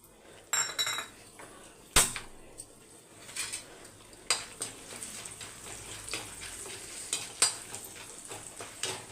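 Dried turkey berries frying in a pan, with close, irregular scraping and clinking of a utensil stirring against the metal over a faint sizzle.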